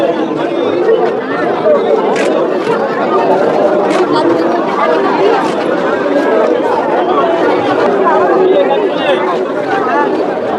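Dense crowd chatter fills the Arambagh festival fair in the evening, a steady loud babble of many voices with occasional sharper calls and clinks, close and continuous throughout.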